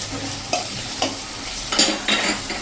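Two medium chopped tomatoes hit a pan of onions cooked until transparent, for a dal, with a steady close sizzle broken by several sharp stirring scrapes and clatters.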